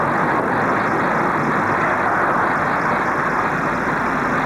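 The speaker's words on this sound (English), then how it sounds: "This is the Bloom Mill." Steel bloom rolling mill at Newcastle Steelworks in 1970, heavy industrial machinery giving off a dense, loud, unbroken roar with no pauses.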